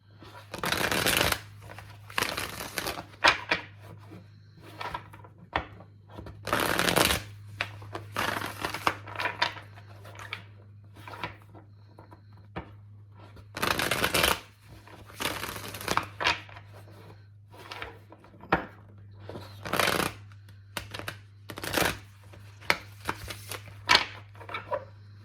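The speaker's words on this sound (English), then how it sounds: "Get two more shuffles for Pisces." Tarot cards are shuffled by hand, giving repeated bursts of crisp riffling and flicking, separated by short pauses, close and fairly soft over a low steady hum.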